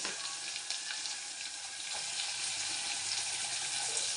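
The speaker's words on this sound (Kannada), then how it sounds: "ಇದು ಎಲ್ಲ ಫ್ರೈ ಆಗಬೇಕು" Onions and curry leaves, later joined by garlic, fry in a pan, giving a steady, close hiss of sizzling oil with faint crackles throughout and no talking.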